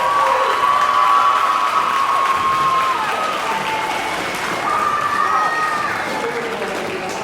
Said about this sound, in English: Another round of applause for your Liberty Jazz Band.